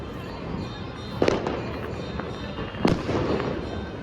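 Firecrackers burst during Makar Sankranti, two sharp cracks about a second and a half apart over quiet background noise.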